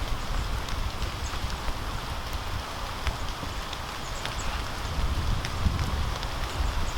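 Rain falls steadily during windy, wet outdoor camping conditions, a continuous soft patter with scattered sharper drops and low wind rumble throughout.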